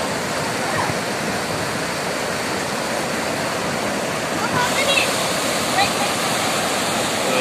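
A river at Green Tea Valley Eco Resort rushes with a loud, dense, unbroken roar of flowing water, and faint voices are heard beneath it.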